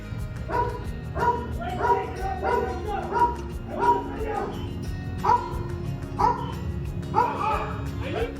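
A dog barks repeatedly inside a police training simulator in a law enforcement training center, with steady, evenly spaced yips and woofs that come through clearly over a low background hum.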